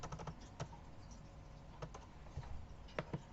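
Quiet keyboard typing, a few scattered key taps with irregular pauses, close by and soft.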